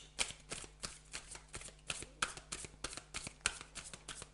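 Oracle cards being shuffled by hand in quick, soft riffles, repeating in a steady rhythm at close range and fairly quiet, with no talking.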